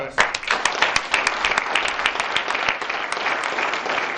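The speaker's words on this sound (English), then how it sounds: "So I just want to give these guys a round of applause." Vigorous audience applause fills the room at a Woodbridge Township council meeting: many hands clap in a thick, continuous patter with sharper individual claps poking through, and it stays loud throughout.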